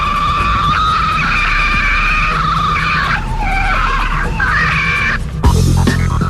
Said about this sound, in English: Police headquarters was able to record what is said to be the call of a Sasquatch.